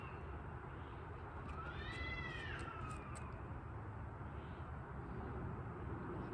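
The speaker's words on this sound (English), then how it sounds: "Stupid cats out there fighting." Cats outdoors yowl in a brief, rising caterwaul during a fight, faint against a steady background hum.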